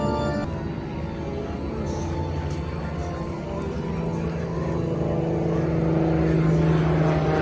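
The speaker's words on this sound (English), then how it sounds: "Wait for the plane to go over." A plane passes overhead near a Legoland theme park in California, its broad engine drone steady throughout and swelling louder toward the end, with no talk over it.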